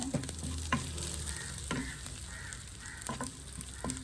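Spices temper in hot oil, sizzling steadily with a few sharp crackles and pops now and then, close and moderately quiet, no voices.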